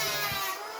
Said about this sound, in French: Rabot électrique.